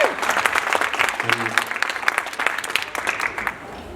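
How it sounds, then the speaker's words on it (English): A room of people applauding at an evening talk, a brisk wash of clapping with a few voices mixed in, fading slightly toward the end. "Let's give her a round of applause."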